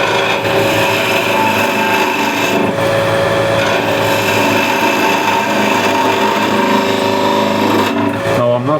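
Wood being turned on a lathe with a gouge to shape a Christmas ornament sphere, a steady close scraping rasp over the motor's constant hum, running continuously with two brief dips.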